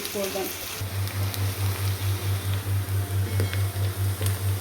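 Onions for a chicken aloo keema stew fry in a pan with a soft sizzle, under a loud, steady pulsing hum, with a few light stirring clinks early on.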